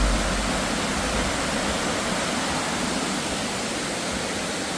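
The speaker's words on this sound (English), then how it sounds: "Here we go, this is the waterfall." Fitzroy Falls in Morton National Park pours with a loud, broad, constant roar of falling water, steady and unbroken throughout with no voices.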